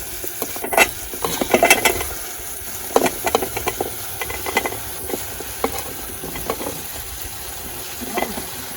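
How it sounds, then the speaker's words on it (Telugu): Jackfruit pieces tumble into a pot of cooked tomato curry with scattered close clatter and soft plops over a faint simmering hiss, then stirring scrapes. "ఇప్పుడైతే మనం ఈ పనసపక్కని ఇక్కడ వేసేసుకుందాము"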